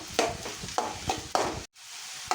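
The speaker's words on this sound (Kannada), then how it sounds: "ಇದನ್ನು ಚೆನ್ನಾಗಿ ಒಂದು 5 ನಿಮಿಷ ಕಾಲ ಹುರಿಬೇಕಾಗುತ್ತೆ" Masala sizzling and frying in a pan with salt and jaggery, stirred in regular scraping strokes about every half second, close and fairly loud, with a brief gap of silence before the stirring resumes.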